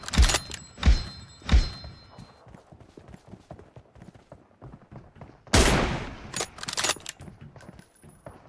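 Bolt-action M24 sniper rifle fire in PUBG, sharp loud cracks at the start and again midway, each with a bright echoing tail, separated by quieter clicking and thudding handling sounds.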